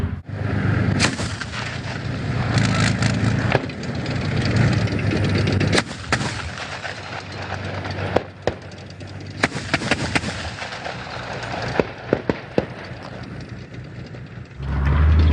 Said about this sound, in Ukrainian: Зараз БМП веде вогонь осколково-фугасними снарядами бачимо характерні розриви.